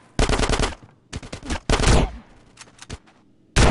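Loud automatic gunfire in GTA San Andreas comes in rapid bursts at close range, with short gaps between each volley and a final burst cut off at the end.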